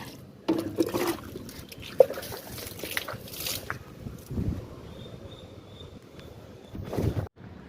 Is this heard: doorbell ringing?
no